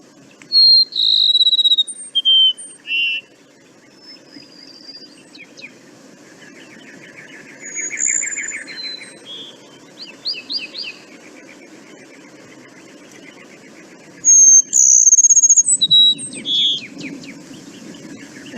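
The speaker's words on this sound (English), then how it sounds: "there's going to be a couple Cassin sparrows in this recording, one in the foreground and a few in the background" Several Cassin's sparrows singing outdoors: clear whistled phrases with trills, one bird close and loud, others fainter in the background, separated by quiet pauses.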